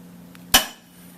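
A single sharp metallic strike rings out as a hammer hits a copper bowl being raised over a stake, a bright clang that decays quickly against quiet surroundings.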